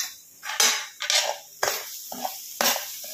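Grated coconut and semolina roasting in ghee in a pan, stirred with a spoon that scrapes the pan in four or five close, rhythmic strokes about a second apart, with no talking.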